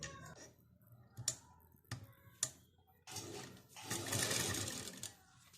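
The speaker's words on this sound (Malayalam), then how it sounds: "ഇനി അത് നമുക്ക് സ്റ്റിച്ച് ചെയ്ത് തുടങ്ങാം." Sewing machine stitching a kurti, running in short bursts at first and then a longer steady whirring run, close and clear with no talking.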